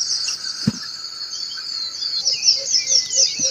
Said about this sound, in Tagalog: bagong gising na mga ibon.